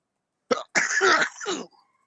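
A single close sneeze, a short sharp intake followed by a forceful burst, with a quick trailing exhale and no talking.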